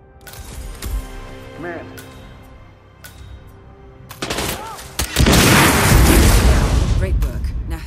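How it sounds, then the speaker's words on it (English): An explosion in the video game Hitman 3 starts as scattered sharp cracks and clatter, then erupts into a loud, sustained roaring blast with dense rumble that fills the final seconds. "We got explosion. Could be a bomb threat."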